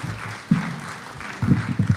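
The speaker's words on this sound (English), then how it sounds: "Give him a round of applause." An audience at a Bitcoin rodeo roast event applauds as the roast master comes to the stage, scattered clapping with some louder bursts near the mic and murmuring voices.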